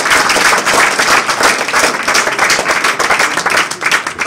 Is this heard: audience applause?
yes